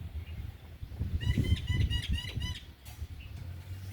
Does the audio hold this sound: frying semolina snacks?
no